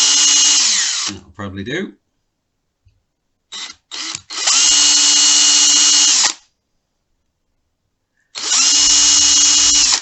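Power drill driving small screws into an S by Solar Flying V electric guitar, heard as several close, loud whirring bursts of a few seconds each with pauses between, and a brief spoken remark in one gap.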